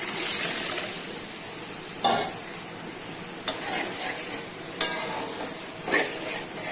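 Boiled mung dal poured into cumin and chili frying in a pan, producing a steady sizzle punctuated by a few sharp bursts of hissing and stirring clatter, close and moderately loud.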